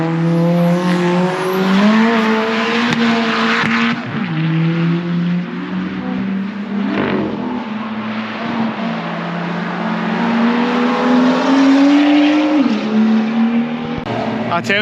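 Track-day cars, including McLarens, Ariel Atoms and Porsches, race through the hairpin at Knockhill circuit, engines droning and shifting pitch as they brake, rev and accelerate past, with brief tyre squeal over steady loud engine noise.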